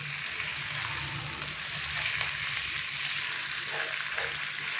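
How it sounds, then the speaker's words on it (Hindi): Chicken pieces frying with garlic paste in a pot over a medium flame for a chicken yakhni broth, a steady, close, hissing sizzle that runs unbroken throughout. "और अभी हम इसको तकरीबन 3 से 4 मिनट मीडियम फ्लेम पे थोड़ा सा फ्राई करेंगे"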